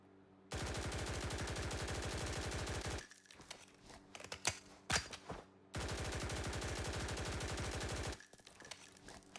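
Two sustained bursts of rapid automatic fire from an HK rifle in the video game Blackhawk Rescue Mission 5, each lasting about two and a half seconds, loud and close, with scattered clicks and clatter between them.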